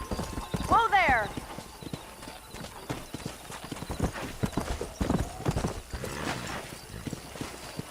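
Horse hooves clip-clop steadily while riding and herding cattle in Red Dead Redemption, with a neigh near the start and a voice talking over the hoofbeats.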